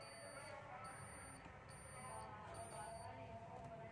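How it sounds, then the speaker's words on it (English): Small electronic buzzer switched by a BC547 transistor circuit sounds in faint, repeated high-pitched beeps over a steady background hiss. "if you want to try to turn on the buzzer instead of LED"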